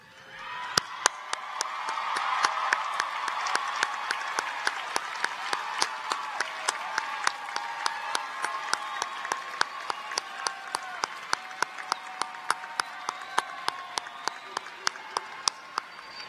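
Large commencement crowd at a college graduation applauding and cheering, a dense sustained roar of clapping that swells early then holds steady for the full stretch, with sharp individual claps popping out near the listener.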